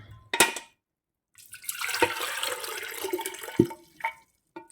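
Water is poured into a measuring jug for a baby's vegetable recipe, making a short, close splashing trickle of a few seconds between small clinks and knocks.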